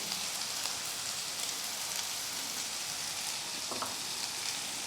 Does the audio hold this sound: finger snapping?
no